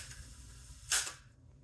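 A Zenza Bronica S medium-format camera fires its shutter once, a single crisp mechanical clack with a brief trailing rattle, close-up in a quiet room with no talking.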